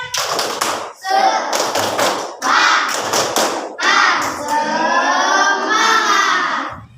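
Schoolchildren in a classroom perform a rhythmic clapping cheer, sharp bursts of hand claps alternating with loud group chanting, close and energetic throughout.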